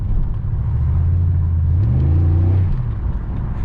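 A Pontiac Grand Prix GXP, freshly repaired after a misfire with new ignition coil and spark plugs, drives on a road test, its engine droning smoothly and close inside the cabin, rising briefly in pitch as it accelerates then settling.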